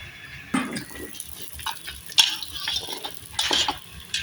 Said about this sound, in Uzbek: Piyozimiz qovurilyapti,